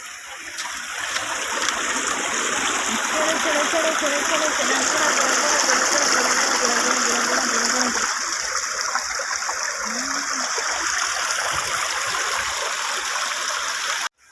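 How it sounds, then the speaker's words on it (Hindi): Spring water gurgles and rushes steadily along a stream at a river outing. The flow is loud and continuous, with faint voices in the background. "ଆଉ ହେଇଆଡ଼ୁ ପାଣି ଆସୁଛି, କୁଡ଼ୁକୁଡ଼ୁ ପାଣି, ଝରଣା ପାଣି।"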